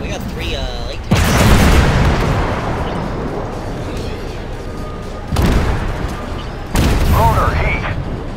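A tank cannon fires HEAT rounds in a modern tank video game, with three heavy booming shots, each followed by a long rumbling decay and mechanical whine, under quiet background game noise.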